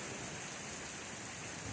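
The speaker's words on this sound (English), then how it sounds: "they forecasted rain, and they got it right" Early-morning rain falls steadily on a freshly seeded lawn in the Texas Hill Country, a dense, even hiss of drops filling the whole clip, moderately loud and continuous with no voices.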